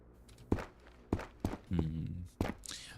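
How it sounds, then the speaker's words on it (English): Footsteps in the snowy winter mode of the survival shooter Road to Vostok: a handful of heavy, irregular thuds spaced about half a second apart, close by, with a low murmur and a brief rustle between them. "hear footsteps, chat."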